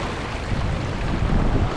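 Wind and waves at sea on a solo sailing passage, a continuous broadband rush of wind buffeting and water washing around the boat, steady and fairly loud with no voices.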